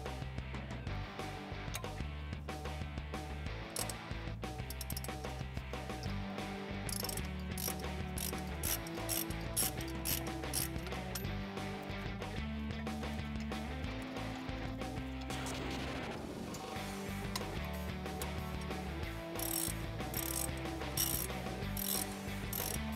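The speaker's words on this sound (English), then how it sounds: "we can come back in with a smaller ratchet just for space constraints." Repeated clicking of a ratchet working loose the brake caliper bracket bolts on a Jeep Wrangler JK, a fast rhythmic mechanical ticking in close, continuous bursts with short pauses between strokes.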